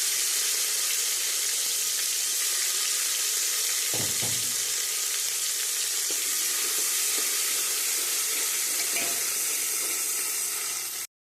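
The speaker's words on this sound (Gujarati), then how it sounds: "હિંગ નાખ્યા પછી હવે આપણે આદુ મરચાં અને લસણની પેસ્ટ નાખીશું" Ginger, chili and garlic paste sizzles steadily in hot oil with asafoetida while a mixed methi and brinjal vegetable dish is prepared, with a continuous bright frying hiss and a few soft stirring knocks.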